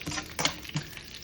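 Chana dal and urad dal frying in coconut oil in a kadai for coconut rice, giving a soft sizzle with a few louder stirring scrapes, close and steady, with no voices.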